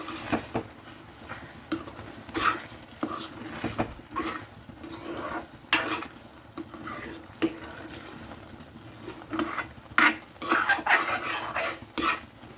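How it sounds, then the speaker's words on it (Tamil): Egg thokku being stirred in a pan, with a spoon scraping and clinking against the metal in irregular bursts and occasional louder knocks, close by and without speech. "இங்கே பாருங்கள், நல்லா நம்ம கிளறி விட்டுக்கலாம் ஃப்ரெண்ட்ஸ்"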